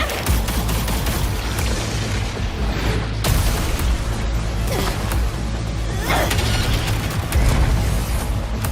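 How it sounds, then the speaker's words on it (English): Gunfire rings out in the video game Wuthering Waves as a dense burst of shots and booms, loud and continuous, with sharper blasts standing out near the middle and end. "Ugh, gunfire! Coming from behind that door!"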